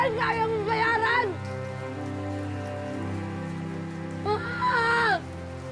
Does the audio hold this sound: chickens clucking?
no